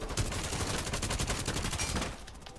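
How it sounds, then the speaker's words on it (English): Rapid gunfire in a match of the video game Rainbow Six Siege as players shoot a window open, a dense continuous burst of shots that lasts about two seconds and then cuts off, fairly faint in the mix. "Shoot that window open."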